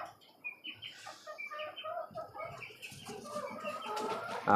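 Home-hatched native chicks about twenty-five days old cheep and cluck softly in a cage, a steady run of small chirps with no talking.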